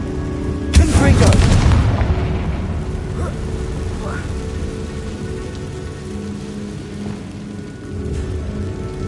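A fiery Confringo blasting spell explodes in the Hogwarts Legacy video game, a loud sudden boom that rolls into a long rumbling, crackling decay that fades over several seconds, with game ambience and a voice underneath.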